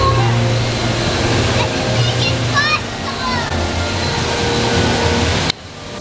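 At Camp Jurassic, water splashes and pours steadily across a wet concrete splash zone, a loud, continuous rushing wash with chirpy voices and chatter mixed in.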